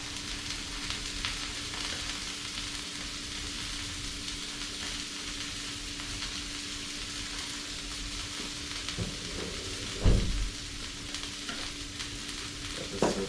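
A burger patty fries in a hot pan with a steady, close sizzle that holds level throughout, broken near the end by a couple of brief clatters of the pan or utensil.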